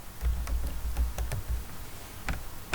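A computer keyboard typed on in a few short clusters of crisp, close clicks over a low hum, with brief pauses between keystrokes and no speech.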